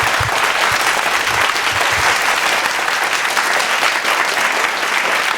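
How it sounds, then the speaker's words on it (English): Loud, dense applause from a large audience at a Singapore awards dinner night, steady and sustained throughout with no talk over it. "Big round of applause."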